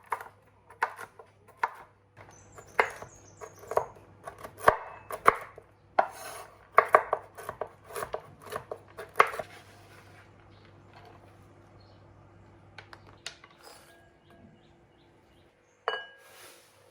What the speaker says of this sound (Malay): Cincang 100 gram walnut yang telah kita panggang.